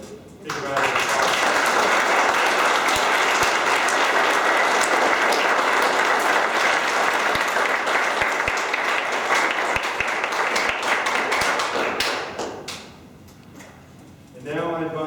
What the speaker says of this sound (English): One more time, take a big round of applause.